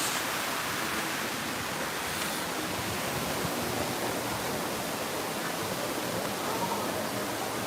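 A waterfall in the square at Torrevieja, Spain, gives a steady, dense broadband rush of falling water that holds at an even level throughout, close and continuous with no pauses.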